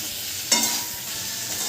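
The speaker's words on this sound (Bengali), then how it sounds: "কাঁকরোলটা পেঁয়াজটা কিছুটা ভেজে নিলাম" Teasel gourd and onion frying in oil in a pan, a steady close sizzle with a brief stirring scrape just past the half-second mark, no talking.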